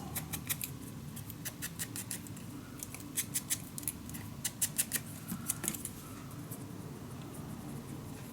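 Scissors snip through paper for a scrapbook mini album, a quiet run of crisp, rapid cuts in irregular clusters over a soft background hum.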